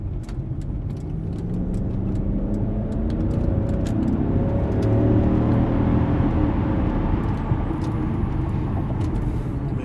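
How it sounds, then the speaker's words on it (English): Steady engine drone from a 2005 Jaguar XJ8 V8 cruising on an interstate at night, a continuous low growl with rising and falling pitch as it accelerates and shifts, heard from inside the cabin with faint ticking above. "This V8 actually growls. You can hear it."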